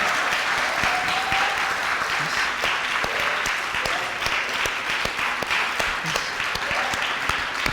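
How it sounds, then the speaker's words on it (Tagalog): A church congregation claps loudly and continuously in praise of Jesus, individual sharp claps standing out within the steady crowd applause, with faint voices underneath. "Yung palakpak para kay Jesus."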